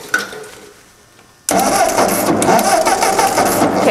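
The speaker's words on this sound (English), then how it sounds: "you can see there that it's cranking over" A tractor engine cranks over without catching because of a missing spark, starting abruptly after a quiet pause and then churning loudly and steadily up close.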